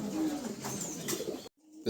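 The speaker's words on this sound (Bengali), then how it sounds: "খুবই চমৎকার এক ধরনের কবুতর" Pigeons of a fancy breed, including magpie pouters, coo softly in a crowded market stall over a busy background murmur before a brief silence.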